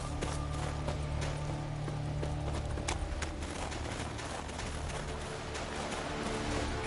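Steady clip-clop of horse hooves at a brisk pace in the video game The Witcher 3, over a constant low rumble and background noise.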